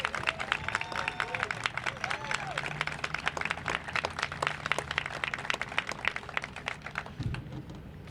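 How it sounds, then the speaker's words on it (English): Crowd applause and cheering at an outdoor Pride Month celebration in Wilmington, dense rapid clapping sustained for several seconds with murmuring voices mixed in, tapering slightly toward the end. "Let's have a nice round of applause for all we're doing here in Wilmington."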